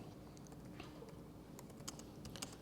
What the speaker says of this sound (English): I find my typing gets worse depending on how many people are watching me